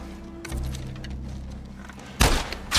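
Ellie's gunfire in The Last of Us Part 1 arrives as a couple of hard, booming shots late in the moment, loud and sharp over a low rumbling game backdrop.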